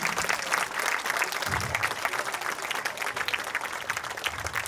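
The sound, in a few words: applause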